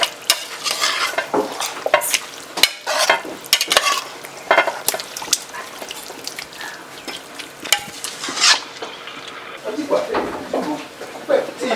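A spoon stirs a lamb biryani mixture in a pot just after water is added, giving wet scraping and sloshing with a faint sizzle, interrupted by sharp utensil knocks against the pot while someone talks in French.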